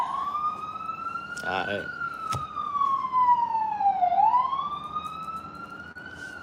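A wailing emergency vehicle siren sweeps slowly up and down, loud and continuous, and someone briefly speaks over it.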